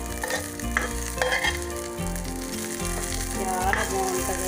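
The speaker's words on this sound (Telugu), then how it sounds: "తీసుకొని మళ్ళీ మిర్చి ఉడిస్తానండి" Green chilies frying in oil in a pan for a stuffed okra masala fry, a loud continuous sizzle with occasional stirring scrapes, no voices.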